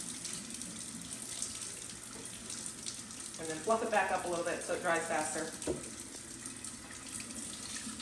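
Tap water running over the roller of a Tineco S5 Pro wet mop vacuum as it is rinsed by hand in a sink, a steady close hiss of water with someone talking over it.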